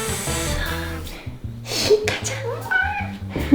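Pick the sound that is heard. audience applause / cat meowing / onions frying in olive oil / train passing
cat meowing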